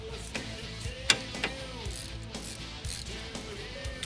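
A wrench ratchets while loosening the 14 mm rear brake caliper bolts on a 2007 Hummer H3. Close, repeated mechanical clicks and ticks run in short bursts against a low background hum.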